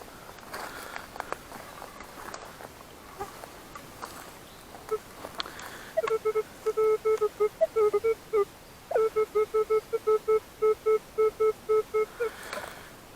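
Metal detector tones sound during a search in a forest: a series of short, clear electronic beeps in a steady pulsing rhythm, starting about halfway through and continuing with a brief gap, over faint outdoor background.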